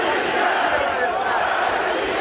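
Loud, dense roar of a Moscow crowd at an MMA fight between Alexander Shlemenko and Paul Bradley, a steady unbroken wall of cheering and shouting with no pauses.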